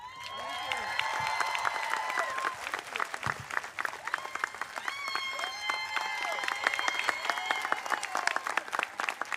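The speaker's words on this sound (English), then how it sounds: "I'm going to let him clap." Audience at a university commencement ceremony applauds and cheers, dense clapping with whoops and shouts from a lively crowd, fairly loud and continuous, with voices calling out over it.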